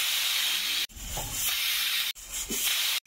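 A loud, continuous steam hiss from a pressure cooker cooking palak dal khichdi on a low gas flame. It comes in sustained bursts broken by brief cuts, with faint low sounds beneath.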